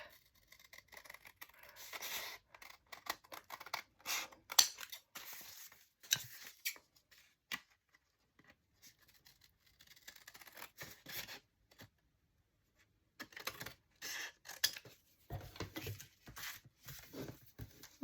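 Scissors cutting paper pages for a single-sided paper junk journal, with quiet snipping, rustling and handling of paper in irregular bursts and a pause midway, close and soft, with no voices.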